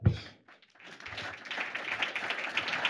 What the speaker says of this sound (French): Et tout cela en public d'ailleurs, et vous pouvez vous applaudir.